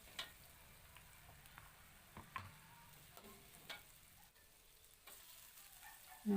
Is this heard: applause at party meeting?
no